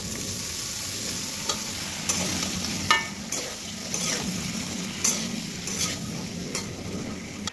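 Chopped eggplant and potato tipped into onions frying in oil in a pan, stirred through with a spatula: a steady low sizzle under a series of scraping and knocking utensil strokes, fairly close, with no talking.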